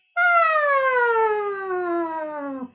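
One voice performs a buzzing vocal exercise, a sustained hum sliding steadily downward in pitch from high to low over about two and a half seconds, close and alone.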